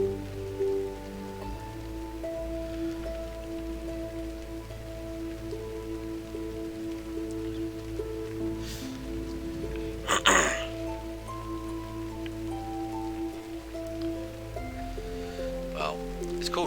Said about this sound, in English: but I wouldn't call that drizzle. It's more of like a light shower.